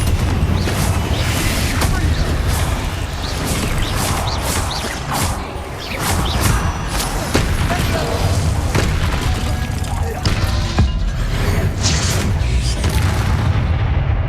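Confringo blasting spell explosions in the Hogwarts Legacy video game, heavy booms and whooshing blasts that keep coming loud and dense throughout, with crashing impacts layered over a rumbling low end.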